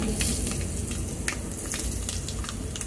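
Turmeric frying in hot oil gives a steady, soft crackling sizzle with scattered pops throughout, fairly quiet and close, with no talking.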